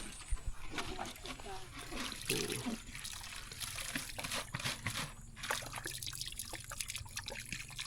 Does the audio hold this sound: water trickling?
yes